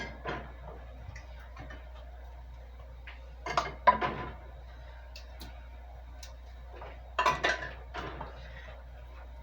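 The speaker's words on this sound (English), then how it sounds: "we're putting them in a fairly warm canner" Glass jars of stewed tomatoes set one after another into a warm canner on a stove, giving a few clustered clinks and knocks of glass against metal, fairly close, with quiet gaps between them and no talking.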